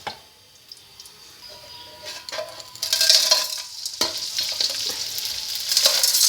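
Pine nuts frying in hot ghee for panjiri over a high flame, a soft sizzle that swells into a loud, steady crackle with stirring scrapes partway through, close up and with no talk.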